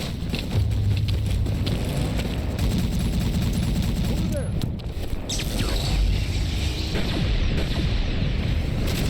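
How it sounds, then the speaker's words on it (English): Ballistic munitions and an anti-aircraft gun fire in a Warhammer 40K Death Korps of Krieg animation, a dense continuous barrage of loud gunshots and booms lasting throughout, with talk over it. "You can see them actually firing like munition weapons, not like las guns or anything like that."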